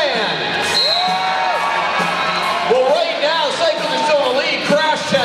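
Spectators cheering and whooping at a flat-track roller derby game, a loud, continuous crowd roar with shouts and whistles rising and falling, while an announcer's amplified voice runs over it.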